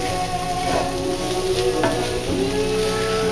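Flour and corn frying over medium-low heat in a pan, a steady hiss of sizzling with occasional stirring scrapes, loud and close.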